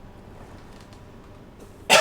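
A single short, loud cough bursts out near the end after a quiet stretch, from a man who has been talking while driving a bus route in a simulator game.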